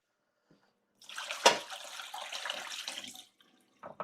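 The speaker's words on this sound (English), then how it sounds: "Let me just empty my drip tray." Water from a coffee machine's drip tray pours out steadily for about two seconds after a brief sharp splash, then stops, followed by a short faint clatter.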